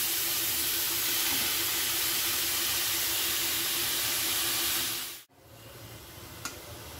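White pumpkin, squeezed of its water, sizzling in ghee in a pan for halwa: a steady, loud frying hiss fills the clip, then cuts off abruptly near the end, leaving a quieter background with a faint tap.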